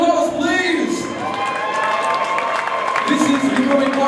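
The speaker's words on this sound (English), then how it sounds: "give it a big round of applause, please" A loud boxing crowd cheers and applauds a round winner, a dense roar of clapping and shouting with an announcer's voice and a few high yells cutting through, sustained throughout.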